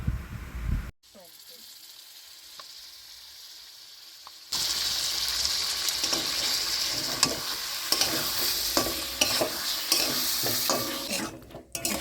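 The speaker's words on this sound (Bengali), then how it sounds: "এইভাবে ভালো করে নাড়াচাড়া করে কষিয়ে নিচ্ছি।" Potatoes being stirred and sautéed in a hot pan while cooking Chitol fish tel jhal: after a quiet start, a steady close sizzle of frying runs under scraping spoon strokes and occasional clinks, with no talk.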